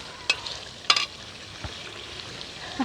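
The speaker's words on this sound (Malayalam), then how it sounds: "നല്ലോണം ഇളക്കി ഇങ്ങനെ വേവിച്ചെടുക്കണേ." Grape chicken fry sizzles softly in a pan as it is stirred, with a few brief scraping clacks from the utensil over a quiet, steady frying hiss.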